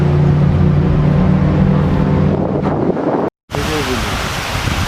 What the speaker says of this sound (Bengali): পাতার শব্দ, গাছের শব্দ, পানির শব্দ, ঝর্ণার শব্দ সব মিলেমিশে একাকার হয়ে যাচ্ছে।